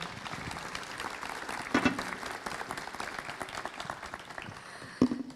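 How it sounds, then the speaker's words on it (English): Audience applause fills a summit hall on international IP enforcement, a steady wash of many hands clapping throughout, with a brief swell near the end and no voices standing out. "A big round of applause."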